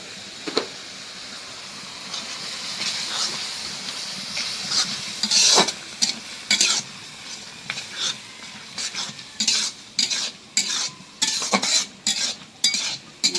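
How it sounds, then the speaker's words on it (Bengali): Homemade dried fish cooking with turmeric, chilli and coriander powder is stirred in a pan, a low sizzle broken by repeated scraping strokes of a utensil that grow quicker and more rhythmic toward the end. "শুটকি মাছটা ভালো করে ভুনা করে নেব,"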